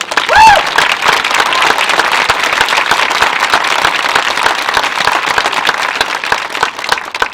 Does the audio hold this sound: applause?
yes